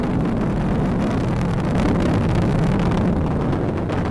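An Atlas V rocket's RD-180 engine roars during supersonic ascent as a dense, continuous, broadband rumble, loud and steady throughout with no voices.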